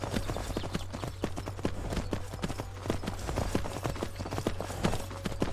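Horse hooves in the video game Skyrim clip-clop at a brisk, even walking rhythm, each strike crisp and close, continuing steadily over a low constant background hum.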